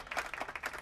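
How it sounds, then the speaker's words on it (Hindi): Students clap in a classroom, a short burst of several pulsing hand-claps from a group, fairly close and brief, with no talk over it. "ओके, तालियां।"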